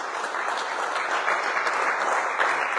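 A church congregation claps together in a dense, steady burst of applause that stays loud and even from start to finish, with no clear speech over it.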